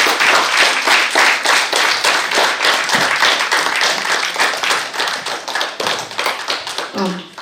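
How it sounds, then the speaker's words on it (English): Applause from a literary gathering's audience for the speaker, dense rapid clapping from many hands, sustained and fairly close, thinning slightly near the end. "Can we please have a huge round of applause for"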